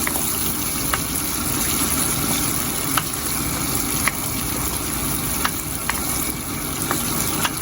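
Garlic and onion fry together in a pan for adobo, giving a steady, loud sizzle throughout with a few faint clicks and taps of utensils over it, and nobody speaks.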